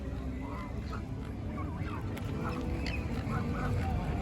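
Ducks and geese quack and honk around people feeding them bread in MacArthur Park, mostly faint and scattered amid outdoor background noise, with some distant voices.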